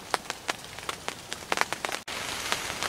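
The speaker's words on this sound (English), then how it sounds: "it has literally rained here all day nonstop" Steady rain patters on surfaces at a deer camp during deer season, with scattered louder drops striking nearby over a constant wash; no one speaks.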